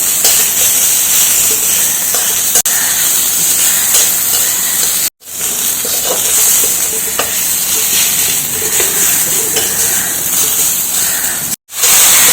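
Chopped small onions sautéing in a pan for a Kerala prawn theeyal: loud, continuous close sizzling and hissing with stirring scrapes, broken by two brief drops to silence, with no talk.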